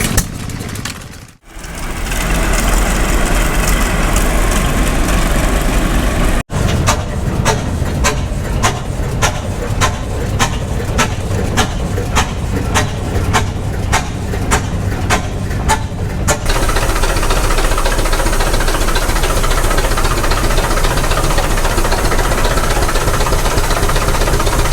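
A huge belt-driven iron apple peeling machine, about 1,500 pounds of iron run by some 75 feet of belting, clatters steadily at a prairie tractor show, with a close, loud, regular rhythmic ticking through the middle and constant mechanical rumble throughout.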